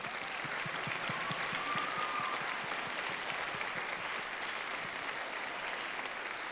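A crowd claps steadily for students at a young band festival, an even, sustained wash of applause that holds at the same level from start to finish.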